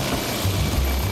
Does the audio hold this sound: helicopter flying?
yes